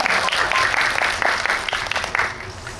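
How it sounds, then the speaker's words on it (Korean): An audience at a film talk event for Confidential Assignment 2: International applauds in a steady, full burst of many hands, fairly close and even, fading slightly toward the end. "네, 박수 부탁드립니다."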